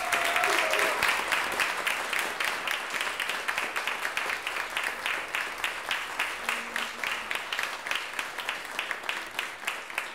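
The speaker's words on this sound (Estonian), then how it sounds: "aplausi neile kõigile" At an award ceremony for quality hobby schools, the audience claps together for the honourees. Steady, rhythmic, fairly even applause carries on for about ten seconds.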